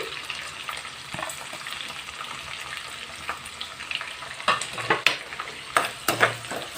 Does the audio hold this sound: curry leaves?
yes